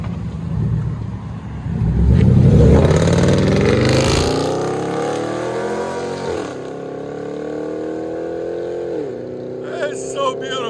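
Dodge Durango SRT 392 with a 6.4L HEMI V8 revs up loudly, then settles into a rumbling idle with a few gear-like pitch shifts, while a person talks over it.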